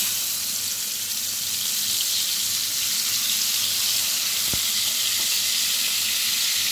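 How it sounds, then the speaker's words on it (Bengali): Spice paste sizzles in hot oil in a pan, being cooked down for an aire fish dopiaza: a loud, unbroken frying hiss with one sharp click near the end and no talking. "ভালোভাবে মশলাটা কষিয়ে নিচ্ছি"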